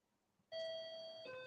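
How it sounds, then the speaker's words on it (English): A Japanese doorbell rings out a clear electronic two-tone chime, a sustained bright ding followed by a lower second note, heard alone after a quiet moment. "That's the Japanese doorbells."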